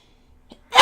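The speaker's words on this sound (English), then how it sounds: "I have a sneeze that's stuck." A single sharp sneeze bursts out at the very end after a quiet, held-breath pause with a faint catch of breath just before, close and loud.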